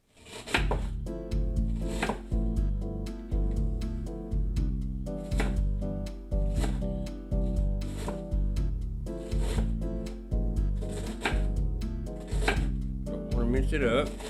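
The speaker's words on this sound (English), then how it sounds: "Now, I have a 1/2 of a medium to large onion, and I'm just going to rough chop it" Half a medium-to-large onion is rough chopped with a knife, making steady rhythmic chopping strokes in repeated bursts, close and clear, with no talking over them.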